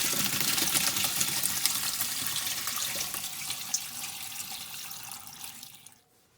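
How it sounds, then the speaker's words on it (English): Ice water pours out of a pot of blanched celery through a strainer, a continuous splashing rush that starts strong, gradually eases, and cuts off at the end. "I stirred it for a few moments to make sure it was cooled off, and then strained the water out."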